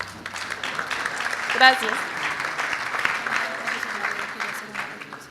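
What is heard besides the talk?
audience applause welcoming the professor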